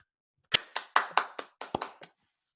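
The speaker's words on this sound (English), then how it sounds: "And can we give a big round of applause to Amardev, please?" A few sharp hand claps at an IIT alumni association gathering, spaced unevenly across about two seconds, close and clear, with no other sound.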